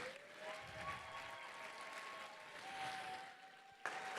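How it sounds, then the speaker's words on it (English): Faint round of audience applause at a DECA state conference awards session at Butler University, a soft sustained patter with a steady tone running beneath it and a brief sharper burst near the end. "one more round of applause for Mrs. Janice Brown"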